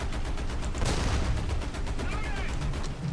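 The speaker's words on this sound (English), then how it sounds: "there's that 50 cal taking out the Panzer IIs" M2A2 vehicle's .50 cal machine gun firing in War Thunder, a dense rapid stream of heavy shots continuing throughout, loud and close with rumbling battle noise beneath.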